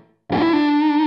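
A single sustained electric guitar note from the bridge pickup with the tone knob rolled fully down, run through a DigiTech RP360 for a dark, distorted woman tone, ringing alone after a short pause.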